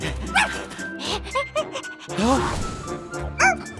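Dahei, a cartoon dog, lets out several sharp barks and yips, close and loud, mixed in with animated voices talking over and between them.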